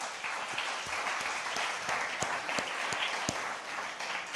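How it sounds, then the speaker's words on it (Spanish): Congregation in a church applauding steadily, a dense wash of many hands clapping together throughout, fairly distant and even in loudness, with no talking. "Denle un aplauso a Dios, por favor"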